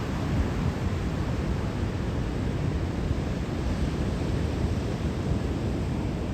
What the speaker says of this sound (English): We got some pretty good waves rolling in.